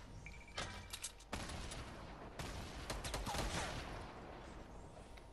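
Gunfire in a Fortnite duos match comes as dense, loud bursts of rapid shots that fill most of the clip, with short pauses between volleys.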